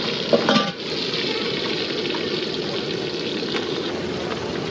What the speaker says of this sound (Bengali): আমাদের চালু হয়ে গেল ফ্রাই হ্যাঁ।